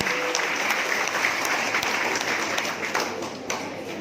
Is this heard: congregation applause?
yes